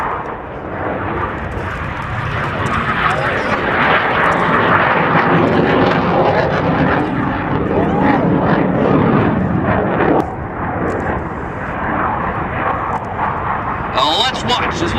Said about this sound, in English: Roll is aircraft 360 degrees with the landing gear extended. The dirty roll on takeoff.